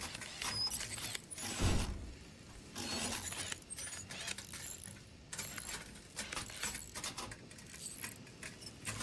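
Mechanical ratcheting and clinking as a wrench is turned in the survival video game The Last Caretaker, a run of close metallic clicks with a louder clank near the start, no talking.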